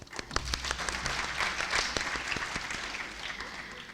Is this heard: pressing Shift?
no